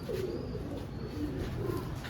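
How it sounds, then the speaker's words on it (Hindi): Soft, low pigeon coos repeat a few times over a steady background hum, fairly faint and unhurried. "देखें कबूतर"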